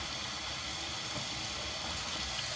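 Tap water runs steadily from a sink faucet into a roughly one-cup plastic container, a continuous close hissing rush with no talking.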